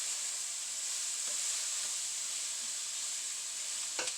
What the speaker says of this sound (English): Add in the orzo so it can be toasting.